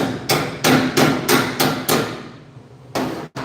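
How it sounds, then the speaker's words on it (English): Hammer blows tap a metal part into line with a lever in a welding shop, giving six sharp, evenly spaced strikes, a short pause, then one more hit. The blows are loud and close, with no talk. "We're going to tap this out a little bit, line it up with the lever in here."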